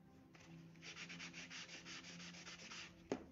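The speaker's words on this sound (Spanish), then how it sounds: "La lija lo que hace es gastarte la servilleta, entonces lográs un corte exacto." Sandpaper rubbed over a paper napkin glued onto wood makes about a dozen quick, rhythmic scratchy strokes, close and fairly soft, ending with a small tap.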